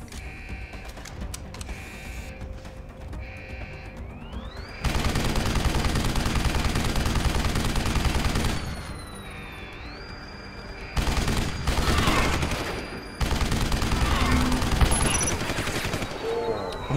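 Rifle fire from Deus Ex: Human Revolution, in loud sustained bursts with breaks between them until the weapon overheats, layered over steady game music and electronic tones.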